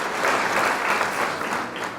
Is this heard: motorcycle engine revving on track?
no